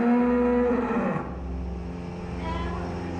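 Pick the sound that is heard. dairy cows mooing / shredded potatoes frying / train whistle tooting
dairy cows mooing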